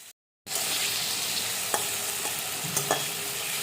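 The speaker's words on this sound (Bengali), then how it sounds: "কড়াইতে ওই সাদা তেলে আমি ছোট ছোট করে কেটে রাখা আলু আর লঙ্কা কুচি" Steady frying sizzle of diced potatoes and chopped chillies in white oil in a hot wok, continuous and close, with a few soft clinks of stirring scattered through.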